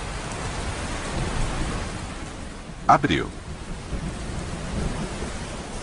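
Steady heavy rain falls in the Amazon rainforest, a dense even hiss with a short crack of thunder in the middle, while a voice speaks briefly.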